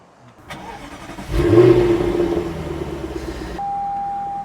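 A Jaguar F-Type R engine starts parked under a bridge: a brief starter crank, then a loud, close roaring flare-up that settles into a steady, rumbling idle.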